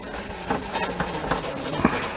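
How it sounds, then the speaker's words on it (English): A folded abrasive pad scuffs the dull finish off a painted surface, producing close, continuous scratchy rubbing with quick back-and-forth strokes and small rhythmic bursts. "just fold it in half, and you just want to take off this dull finish"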